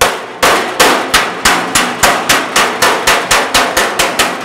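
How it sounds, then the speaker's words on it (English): Hammer striking a dolly through thin-gauge sheet metal during a body repair, about fifteen sharp, bright metallic taps in a fairly steady rhythm, close and loud with no talking. "I'm gonna come in with my hammer and my dolly."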